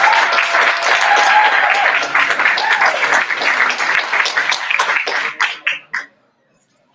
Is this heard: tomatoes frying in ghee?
no